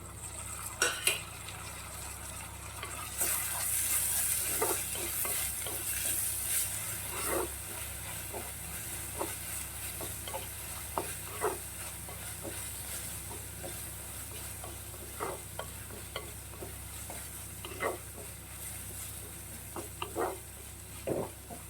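Cleaned dried prawns fry in a pan for a mango curry, giving a faint steady sizzle with scattered stirring scrapes and light clicks of a utensil against the pan.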